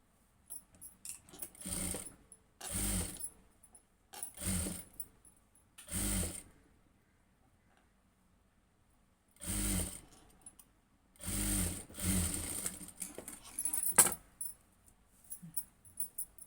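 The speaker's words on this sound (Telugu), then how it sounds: "ఇప్పుడు దీనికి కుట్టుకోవాలి." A sewing machine stitches cloth in short, separate bursts of rapid mechanical whirring, each lasting about a second, with quiet pauses between runs and a longer, more broken run near the end, heard close and moderately loud.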